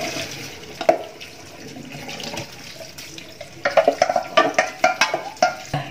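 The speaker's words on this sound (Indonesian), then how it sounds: "langsung saya siram dengan air dingin" Cold water splashes and pours over vegetables in uneven bursts, quieter at first, then a series of sloshing pulses near the end, close by with no talking.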